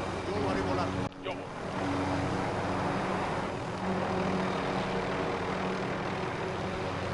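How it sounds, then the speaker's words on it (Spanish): Helicopter in a video game, a dense, steady engine and rotor roar that stays loud and close for the whole stretch. "Vamos en el helicóptero, vení."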